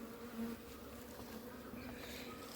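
Honeybees buzz steadily at an opened hive colony, a close, continuous insect drone holding at an even level throughout with no voices.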